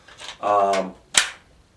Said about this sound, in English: We're just going to crack off a few rounds, get a few slow-mos here.